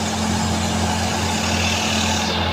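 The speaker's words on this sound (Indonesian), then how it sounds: "di sini ada truk trailer." Steady low drone of a large trailer truck engine idling nearby, unbroken and fairly loud.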